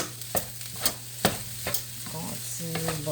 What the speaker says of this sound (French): Le but, c'est bien de colorer le riz. Ça demande beaucoup de bras pour brasser ça